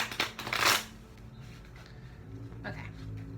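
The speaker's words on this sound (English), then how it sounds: "One last shuffle." A brief burst of tarot card shuffling near the start, followed by quiet room tone with faint background hum.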